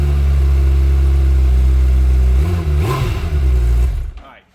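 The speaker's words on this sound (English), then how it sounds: "You guys stand right in here and listen to this stock exhaust. Now this is a cold start on a brand new one." A brand-new 2026 Suzuki Hayabusa on its stock exhaust cold-starts, settling into a loud, close, steady low idle with a brief blip of revs before cutting off abruptly at the end.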